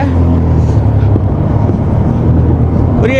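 A motorbike rides along a mountain road on the way from Delhi to Shimla, with a close, continuous engine drone and heavy wind rushing over the microphone for the whole stretch.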